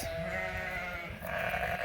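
Suffolk sheep bleating in a small flock, a short sustained wavering bleat, faint and a little distant, with no talk over it.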